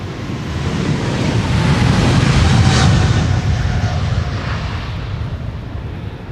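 A KLM Boeing 777-300, registration PH-BVK, on flight 791 to São Paulo at Amsterdam Schiphol Airport, produces a broad, steady jet roar that swells and then slowly fades, with wind buffeting the microphone.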